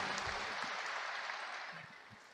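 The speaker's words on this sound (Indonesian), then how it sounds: "Tepuk tangan." Applause from a university graduation audience, a steady wash of clapping that holds throughout and fades slightly toward the end, with no voices.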